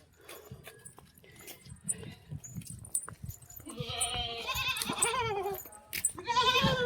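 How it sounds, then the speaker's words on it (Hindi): Goats bleating outdoors near a village corn field, quiet rustling and faint background noise at first, then loud wavering bleats building up and repeating close by over the second half. "बकरी की आवाज है"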